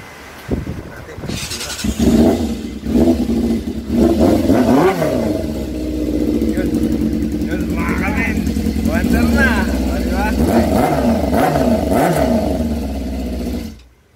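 A motorcycle with a freshly cleaned carburetor sputters and then runs close by, revving up and down repeatedly with a rough, uneven idle between throttle blips, while people talk over it.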